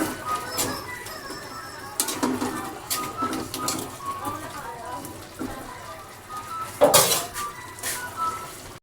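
Pork adobo with cassava and saba bananas being stirred in a pot, with scattered clinks and scrapes of a utensil against metal, close and moderate, alongside faint background birds cooing.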